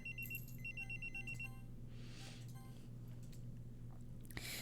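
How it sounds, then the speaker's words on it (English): A phone rings in a Doki Doki Literature Club mod video game, with short repeated electronic trills at the start over a steady low hum, then quiet ambience. "My phone rings."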